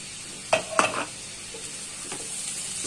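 Cauliflower, potato and chopped tomato for a winter vegetable bhaji get stirred in a frying pan: a couple of close scraping, sizzling stirs near the start, then a soft, steady low sizzle.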